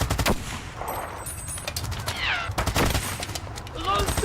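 Machine gun fire in a World War 1 battle, the Somme in 1916: dense, loud bursts of gunfire crack throughout amid rumbling battlefield noise, with faint voices shouting underneath.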